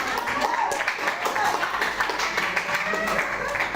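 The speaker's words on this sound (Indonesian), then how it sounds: "Berikan tepuk tangan." A classroom of pupils applauding together, dense continuous clapping close by with some voices mixed in throughout.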